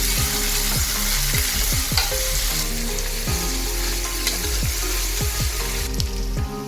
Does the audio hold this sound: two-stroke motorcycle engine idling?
no